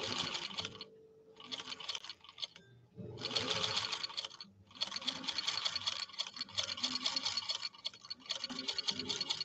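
A 1949 Singer 15-91 sewing machine stitches full grain leather in several bursts, a fast rhythmic mechanical chatter that stops and restarts with short pauses, close and clear with no talking.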